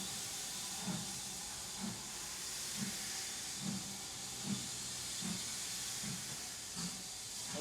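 A steam locomotive on a British heritage railway, about to depart, hisses continuously while soft rhythmic chuffs pulse roughly once a second, fairly faint and steady throughout.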